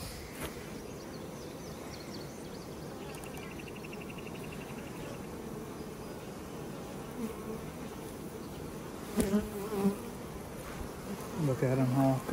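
Dense, steady buzzing of VSH-bred honey bees close up, a continuous hum with a few brief knocks and faint voices near the end.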